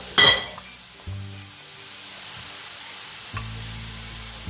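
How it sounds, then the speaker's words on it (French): Chopped onions, garlic cloves and carrots sauté in hot oil in a pan, a steady sizzling hiss with a few louder clatters as the vegetables go in. "Je vais commencer par mettre mes oignons et mes 2 gousses d'ail qui sont dedans. Je vais les faire revenir un petit peu."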